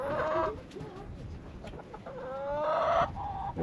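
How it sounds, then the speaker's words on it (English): A rooster and hens cluck and croon nearby, with rising drawn-out calls and a low murmur of farmyard sounds. "There's Henry the rooster"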